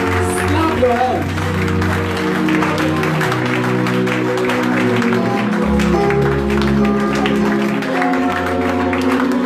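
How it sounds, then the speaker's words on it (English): Continuous congregational handclapping fills a church worship service for several seconds, sitting under sustained music chords and a recurring bass, with singing or shouting voices mixed through. "Slap your hands."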